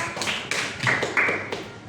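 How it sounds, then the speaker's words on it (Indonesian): A classroom group claps for a pupil, a run of quick, fairly close hand claps that rises and falls in small surges, with no voices over it. "tepuk tangan untuk Lisa"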